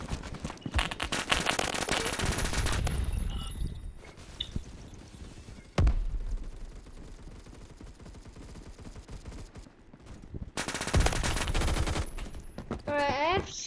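Rapid gunfire in the online shooter Phantom Forces, with dense bursts of automatic shots at the start and again near the end, a lull in between, and a sharp thump partway through.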